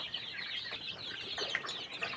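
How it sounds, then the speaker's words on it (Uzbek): Newly hatched chicks, a day or so old, keep up a faint, busy chorus of high chirps and peeps throughout, with a few sharper calls standing out. "Mana aka ukalar jo'jalar."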